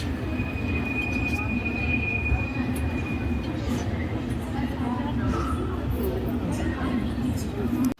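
Taj Express passenger train at Agra Cantt station, a steady loud rumble of railcars with a long metallic wheel squeal early on, continuous through the whole stretch.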